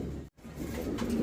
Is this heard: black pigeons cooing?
yes